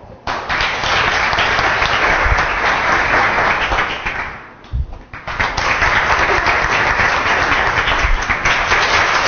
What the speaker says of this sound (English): All right, we're going to vote. You ready? By applause.